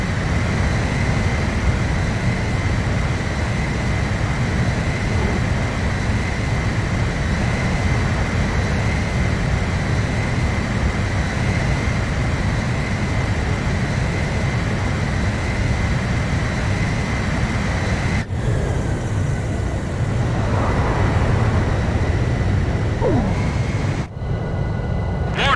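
Jet aircraft engine during aerial refueling in the video game Ace Combat 5, a steady loud roaring drone with brief electronic blips and a faint voice near the end.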